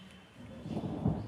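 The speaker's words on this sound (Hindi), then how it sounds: "बादल गरज रहे हैं उसकी गड़गड़ाहट में" Low, rolling thunder rumbles continuously, swelling louder toward the end with a deep boom.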